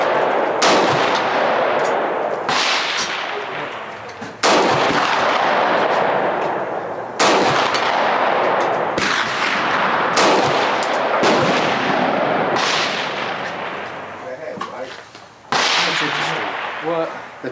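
Gunfire in the shooting game Black Powder, Red Earth: about ten loud, sharp reports spaced a second or two apart, each with a long decaying echo, close and booming.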